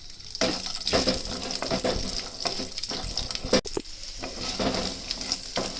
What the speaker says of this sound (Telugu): ఎల్లిపాయలు కూడా మంచిగా వేగుతున్నాయి కదా